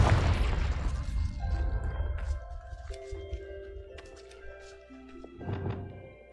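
A Confringo spell explosion in a wizarding video game: a loud booming burst at the start that fades into ringing magical tones, followed by a smaller second burst.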